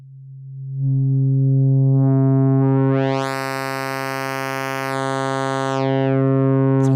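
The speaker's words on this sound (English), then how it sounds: "It's a pretty nice throaty sound." Resonance is added to the bandpass filter on a Roland System-500 505 dual VCF, so a sustained synth tone takes on a bright, ringing, whistling edge as the filter opens midway and then closes again, loud and alone.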